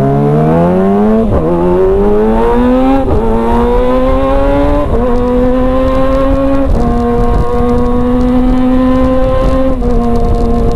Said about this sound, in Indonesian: rame banget mobil coy, udah subuh ini sih ya.